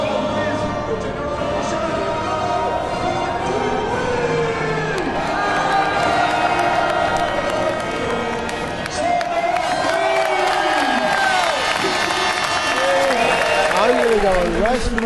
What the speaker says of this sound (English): now the crowd invasion of the pit lane begins